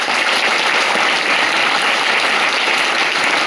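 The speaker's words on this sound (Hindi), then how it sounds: "एक बार सभी अप्लायंस के लिए जोरदार वाली ताली बजाओ।" Loud, dense clapping from a large audience at a motivational gathering, sustained and even from start to finish with no talk over it.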